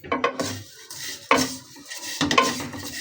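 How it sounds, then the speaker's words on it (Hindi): Vermicelli roasting in ghee for sheer khurma, with a spoon scraping and clinking against a metal pot in several close, uneven bursts; faint sizzle underneath. "इसी घी में हम अपनी ये सेमियाँ ऐड कर लेंगे"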